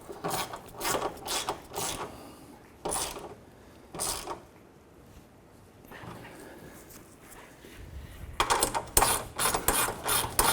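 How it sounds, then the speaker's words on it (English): A 13 mm ratchet tightening the side step bolts on a 2007-2017 Jeep Wrangler, giving rapid bursts of close, loud clicking separated by pauses and ending in a quick run of fast clicks. "Using a 13 millimeter ratchet, go ahead and tighten these bolts up here."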